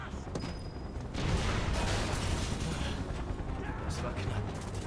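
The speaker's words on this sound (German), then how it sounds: "Feuer frei! Knallt ihn ab!" Gunfire and combat noise in the video game Final Fantasy 7 Remake, a dense rumbling burst of shots and impacts that swells after the first second and continues, fairly quiet overall.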